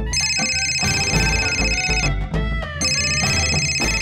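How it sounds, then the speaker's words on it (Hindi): A telephone rings with bright repeating tones over background music, pausing briefly midway before resuming. "उन्हीं का फोन आ गया, क्या जवाब दूंगा इनको?"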